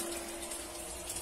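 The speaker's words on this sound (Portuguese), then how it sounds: "Vou começar a botar água aqui que estão sofrendo já." Water is poured into a water-tank fish pond, making a faint, steady gushing hiss that runs unbroken through the short moment with no talking.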